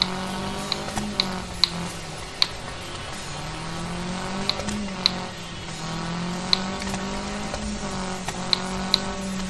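Rally car engine in the racing game Gravel, a steady droning hum with harmonic tones shifting in pitch as the car speeds along, punctuated by sharp ticks and clicks, with no talking.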